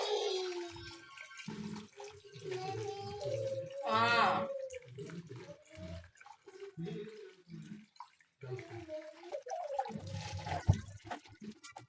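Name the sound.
washing lentils in water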